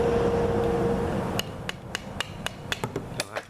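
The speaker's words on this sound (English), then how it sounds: "Just stick a screwdriver through and just give it a light taps, real light taps." A screwdriver taps lightly and repeatedly to knock a fuel vent filter out of a FiTech fuel command center, about a dozen sharp metallic clicks in an uneven rhythm, close and fairly quiet, following a short stretch of low hum.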